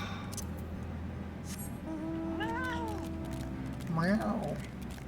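A cat in the game Final Fantasy XIV: Endwalker gives two short meows, the second louder, over a steady hum of in-game ambience.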